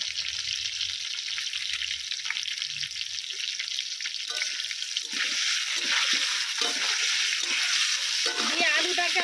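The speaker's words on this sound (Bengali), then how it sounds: "আমি খুব ভালো করে লাল লাল করে ভেজে নেব আলুটা" Potatoes fry in a pan with salt and turmeric, a loud continuous hissing sizzle close by, with occasional stirring scrapes and splatters joining in toward the end.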